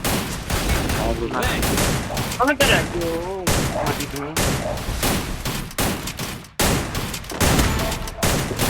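Rapid bursts of gunfire from the Free Fire video game crack repeatedly in a dense, loud sequence while a voice talks excitedly over the shooting.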